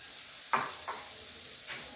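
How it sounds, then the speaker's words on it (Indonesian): Spices frying gently in a pan over low heat, a soft steady sizzle broken by a few faint scraping stirs, quiet and close. "Ini emang sengaja pakai api yang kecil ya guys, biar bumbunya matang."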